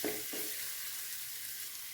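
Masala with turmeric and coriander powder sizzles in a pan for a macaroni dish, a steady close frying hiss with a couple of soft stirring scrapes at the start.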